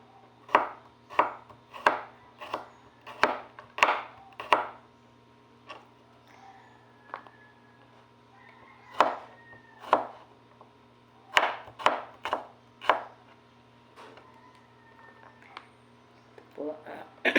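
Knife chops onion and garlic on a cutting board in a home kitchen, sharp close knocks in quick bursts separated by pauses, with a low steady hum underneath.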